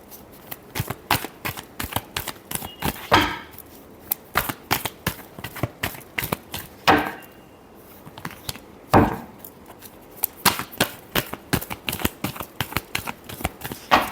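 Tarot cards riffle-shuffled up close in a quiet room, a dense run of quick papery flicks with a few longer fluttering bursts, no talking.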